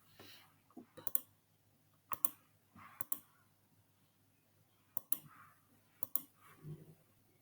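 Faint, sparse clicks of a computer keyboard being typed on, a few isolated taps and small clusters of keystrokes spread out over quiet background.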